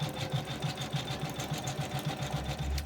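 An embroidery sewing machine stitches a star design onto flex heat-transfer material, its needle pounding in a steady, fast rhythmic chatter close up and alone, with a low thump building near the end.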